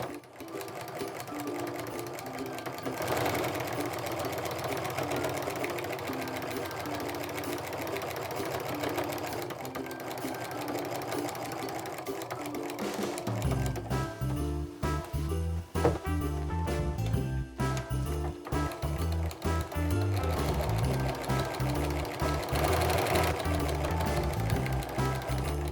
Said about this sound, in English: All right, so I've now sewn down both corners, so now I can just stitch and do my angles